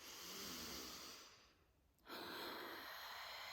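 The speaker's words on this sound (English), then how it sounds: "Exhaling, deep exhales, deep releases through the mouth to just open up the channels" Deep breathing during a morning breath exercise, with long broadband airy exhales released through the mouth, close and steady, with a brief quieter pause before the next breath.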